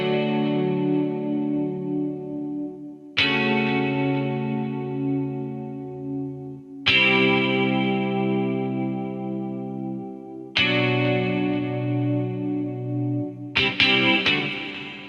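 A Chorus Soak guitar preset from the Evolution Indie Rock library, played from a MIDI controller, rings out as four lush, shimmering sustained chords with heavy chorus and echo, each struck loud then slowly decaying, with a flurry of quick notes at the end.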